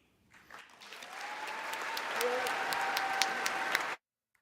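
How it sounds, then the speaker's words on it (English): Applause from a crowd swells and holds steady for several seconds, then cuts off abruptly. "We hear a lot of applause."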